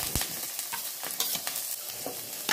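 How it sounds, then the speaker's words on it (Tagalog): Ginger and garlic dropped into hot cooking oil in a pan, crackling and sizzling with scattered sharp pops and stirring scrapes, close and fairly quiet. "meron tayong mainit na pan. Lagay tayo ng cooking oil. Lagay ng luya, bawang at sealing grain."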